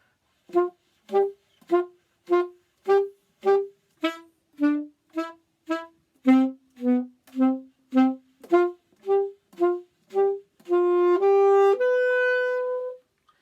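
Short, accented saxophone notes played staccato in an even rhythm, about twenty detached hits stepping through pitches, ending in a longer sustained rising run.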